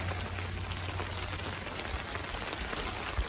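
Heavy rain drums steadily on a tarp at a campsite, a dense, continuous hiss and patter close overhead with no break, loud and unbroken for the whole stretch.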